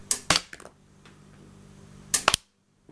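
A toy figure's spring-loaded missiles fire as sharp snapping clicks, two quick pops at the start and another close burst about two seconds later, with small rattles between them and near silence after.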